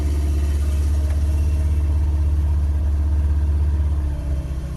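An old Ford Courier's engine idles close by with a loud, steady low rumble and a faint rhythmic throb, slightly uneven toward the end.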